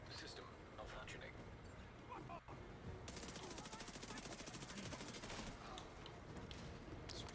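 Rapid automatic gunfire rattles in The Division 2 video game, a long sustained burst of machine-gun shots over game ambience, loud and close, with a shorter burst trailing off near the end.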